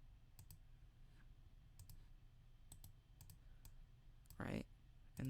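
Sharp computer mouse clicks during video editing on a Windows PC, coming singly and in quick pairs at uneven intervals against a quiet room, with a brief voice near the end.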